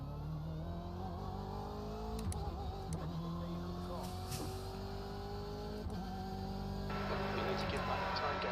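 A racing car engine in the iRacing video game whines and shifts pitch as it revs up and down through gears, steady and continuous, with a voice talking faintly underneath.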